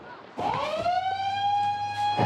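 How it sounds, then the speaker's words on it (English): A beach shark alarm siren winds up and holds a steady, piercing tone, sounding from a short distance over faint background noise. "The shark alarm is off."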